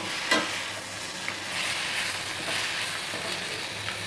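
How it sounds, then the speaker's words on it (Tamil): Radish sautéing in a pan with onion and tomato, a steady soft sizzle with occasional stirring scrapes, close and moderately quiet throughout. "இப்போ இது கூட நம்ம வதக்கி வச்சுருக்க முள்ளங்கியை சேர்த்து வதக்கி விட்டுக்கலாம்."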